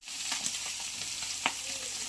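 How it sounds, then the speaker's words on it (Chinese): Small fish pan-fry in oil in a home kitchen, a soft, steady sizzle with light crackles and a brief sharper spatter, close and quiet with no talking. "老罗还在煎鱼啊"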